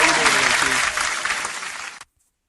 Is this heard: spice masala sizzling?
no